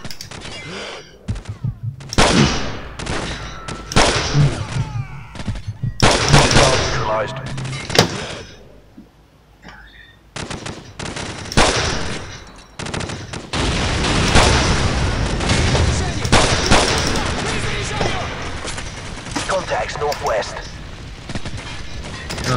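Gunfire bursts and explosions from the Call of Duty 4 Modern Warfare campaign, loud clustered shots with booming impacts and short lulls, mixed with in-game voices.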